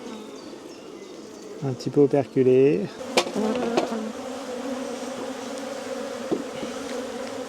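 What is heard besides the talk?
honeybees buzzing around opened hive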